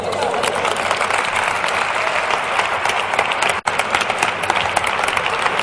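Conference audience in a plenary hall giving a strong round of applause, dense steady clapping filling the room throughout, with one brief cut near the end.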